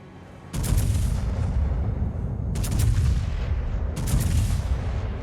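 Battleship Minnesota's naval guns fire in World of Warships, three heavy booming blasts in a row, each with a long rumbling tail.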